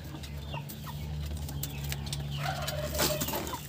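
Chickens cluck softly and intermittently at close range during an egg harvest, short clucks scattered over a steady low hum of background noise.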